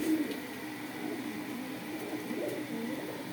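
A male pigeon cooing in a low, soft, steady murmur close by, with faint background hum and no talking.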